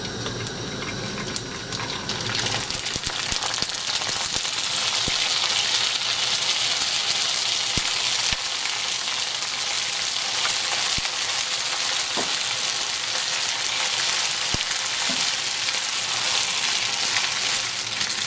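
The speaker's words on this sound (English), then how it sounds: "Okay, now we're gonna wait until the oil is hot, and then we are going to deep fry the pasta." Pasta deep frying in hot oil in a wok gives a loud, continuous sizzle and crackle, with occasional sharp pops and clicks from stirring.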